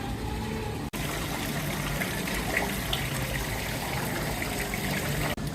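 Flowing water from a decorative water feature in the lobby of Animal Kingdom Lodge resort, a steady, close, continuous wash of splashing and running water with no pauses and no voices.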